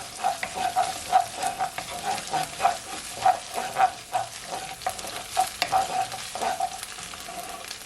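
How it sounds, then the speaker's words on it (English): Tomato puree is stirred into a meatball sauce in a pot, giving a steady run of scraping, clinking spoon strokes about every half second over a soft simmering sizzle, close and moderately loud, with no voices. "I'm gonna add at least 1/4 cup of my tomato puree. Gonna mix it all in."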